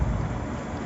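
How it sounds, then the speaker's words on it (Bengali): Thunder from a rain cloud rumbles low and steady for a brief moment, with a dense, deep roll and no voices. "তোর মেঘ ডাকছে গুরুম গুরুম করে"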